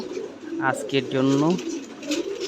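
Fancy pigeons cooing close by, a few soft rolling coos rising and falling over a quiet room, with a voice speaking faintly underneath.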